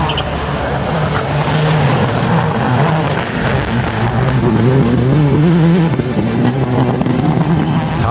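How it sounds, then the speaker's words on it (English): A Subaru XV rally car driven by Han accelerates hard in a rally, its engine roaring loud and close and climbing through revs in a continuous, gritty rush. "So as he steps up the speed, the XV responds."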